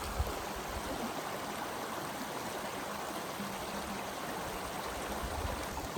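A creek runs over rocks at a hiking crossing near Three Fingered Jack, a steady close rushing stream with constant broadband wash and no talking.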